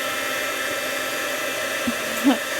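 A heat embossing tool blows steadily on the back side of a card with a constant airy whir, a couple of small taps and clicks breaking through near the end.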